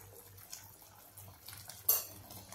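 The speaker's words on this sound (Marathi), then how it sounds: "याला एकदा आपण छान असं फिरवून घेऊया." A spoon stirs chakolya mixture in a metal pot, giving soft scraping clinks with one sharper knock against the side near the end, close and quiet with no talking.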